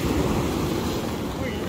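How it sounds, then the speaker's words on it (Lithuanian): Large ocean waves wash onto a shore at dusk, a steady, close roar of surf with wind noise across the microphone, no pauses. "bangos didelės ir nuplukdė atgal į vandenyną"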